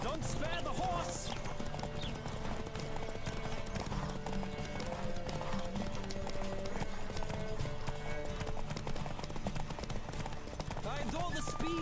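Horse hooves clip-clop in a steady galloping rhythm through the whole stretch in The Witcher 3, loud and close, with a whinny, game music and someone talking over it.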